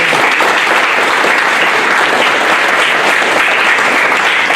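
Loud, dense audience applause fills a municipal sports ceremony honoring a coach and students, steady and sustained throughout with no break or speech over it.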